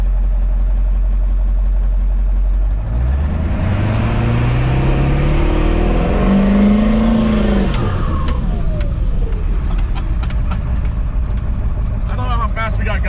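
Powerstroke diesel Ford Bronco idling, then revving hard as it launches and spins its tires in dirt, the engine climbing to a high roar before easing off as it coasts.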